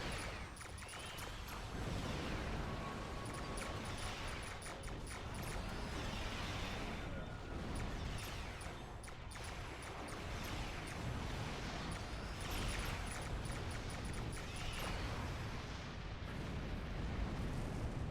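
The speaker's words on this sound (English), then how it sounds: "I'm in the middle of a firefight once again." Starship weapons fire and explosions in a Star Trek space battle with rogue Klingons, a dense, continuous roar of blasts and bursts throbbing steadily throughout, loud and close with no talk.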